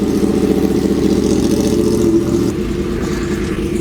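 A Yamaha R1 motorcycle, fitted with a borrowed battery, runs steadily after starting, its engine holding a loud, close, even drone with a slight dip in level partway through.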